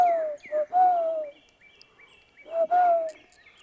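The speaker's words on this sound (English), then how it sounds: "Birds are going at it." Birds calling outdoors around a van campsite, with clear whistled and hooting calls in several bursts separated by a pause, fairly close and loud with no talking.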